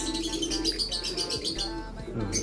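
White flight pigeons in a loft give soft, close cooing and chirping calls in short overlapping bursts over a low steady background hum, with no talk.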